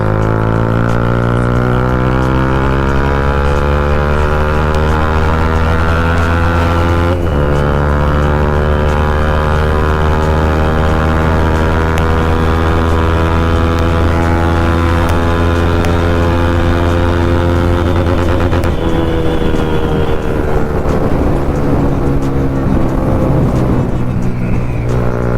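A Bajaj Pulsar NS200 motorcycle fitted with an Akrapovic exhaust drones loudly and steadily on a night ride, its engine note climbing and shifting pitch as it revs, close and alone without talk.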